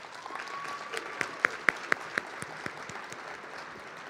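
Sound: audience applause at luncheon

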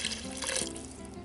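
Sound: water poured into Dutch oven for lamb stew

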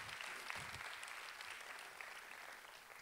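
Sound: audience applause at festival opening

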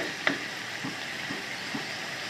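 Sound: ginger garlic chilli paste frying in a pan

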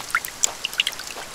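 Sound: rain in the video game The Forest

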